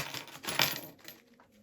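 Coins or metal badges rattle and clink inside a lost postal parcel being shaken, a close, brief burst of jingling that peaks and then fades.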